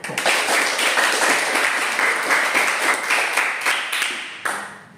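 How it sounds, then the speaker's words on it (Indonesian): Classroom applause from students at the end of a lesson, a steady dense clatter of many hands clapping for about five seconds, then tapering off near the end. "tepuk tangan untuk kita dulu"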